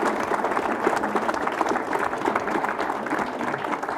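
A debate audience gives a warm, continuous round of applause for the participants, many hands clapping densely and steadily throughout, with no speech.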